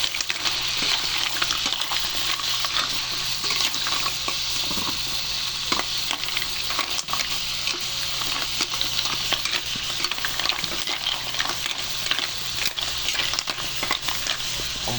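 Mussels (tahong) sizzle steadily in a hot pan while being stirred, a constant loud frying hiss with scraping stir sounds throughout and no talking.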